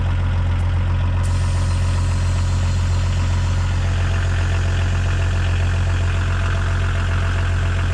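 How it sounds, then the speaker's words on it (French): A car engine idles with its idle speed set too high, a steady, loud, close drone that holds unchanged throughout with no voices. "Il faut qu'on règle le ralenti aussi, il est trop haut pour moi."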